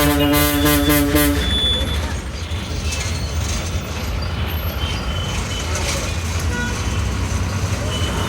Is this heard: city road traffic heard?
yes